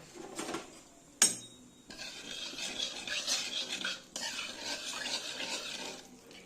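Egg curry spice mixture of turmeric, chilli powder and salt being stirred in a pan, with scraping and rubbing strokes of a utensil and one sharp clink near the start, fairly quiet and close.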